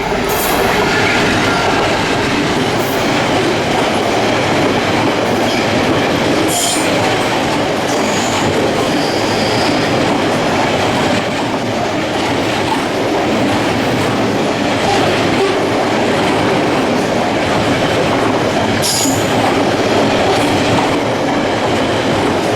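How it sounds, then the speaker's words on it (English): Class 66 locomotive 66171 hauls the Knowsley to Wilton binliner freight past Romanby Road level crossing, a steady loud rumble of wagons rolling by with rhythmic clickety-clack and occasional wheel squeal throughout, no voices. "66171 is seen at Romanby Road level crossing, working the Knowsley to Wilton binliner train"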